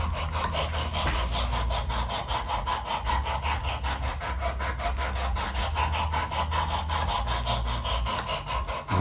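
Knife blade being drawn repeatedly across the abrasive stone of a Work Sharp Precision Adjust Elite sharpener, a close, steady rasping stroke repeated in quick rhythm throughout with no talk.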